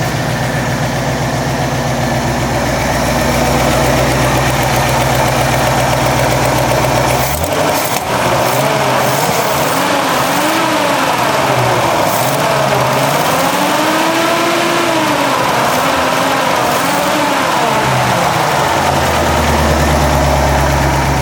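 A Ford F100 pickup engine idles steadily after a Sea Foam treatment, a continuous low rumbling drone close to the recorder, with a brief disturbance partway through as the engine note shifts slightly, no talking.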